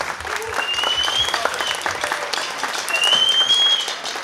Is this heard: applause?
yes